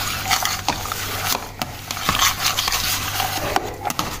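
Chicken and vegetables get stirred into mayonnaise for a sandwich filling: soft, wet, squelching mixing noises with scattered clicks of a spoon against the bowl, close and continuous.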